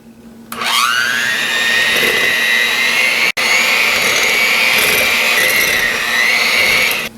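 An electric mixer starts up and whirs steadily at close range, beating sugar into oil for a vegan orange cake. The motor runs continuously with one very brief break partway through.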